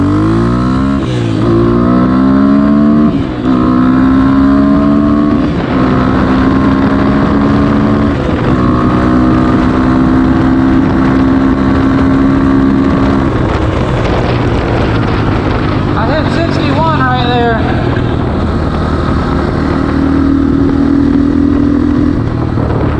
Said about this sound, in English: Here we go, second gear all the way to top gear.